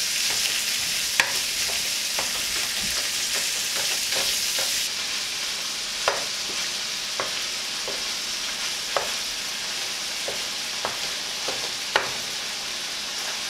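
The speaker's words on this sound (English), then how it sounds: "I'm going to put this in our frying pan and get this browning" Steady sizzling of ground meat browning in a frying pan, with occasional sharp clicks and scrapes of a utensil stirring, no voices.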